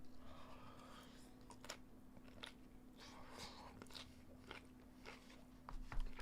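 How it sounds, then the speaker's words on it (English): A streamer eating while drawing on a live stream, with close, wet chewing and crunching bites repeating irregularly over a steady low electrical hum, with no talking. "I'm really sorry if all the chewing noises are destroying your"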